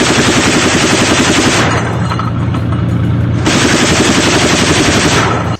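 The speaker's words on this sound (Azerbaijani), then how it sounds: "30 mm-lik bu top elə bir sürətlə atəş açır" A 30 mm anti-drone cannon fires in two long, rapid bursts, a loud, close, continuous roar of shots with a short gap between them.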